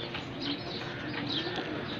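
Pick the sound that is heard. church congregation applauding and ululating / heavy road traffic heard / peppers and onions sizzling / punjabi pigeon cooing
punjabi pigeon cooing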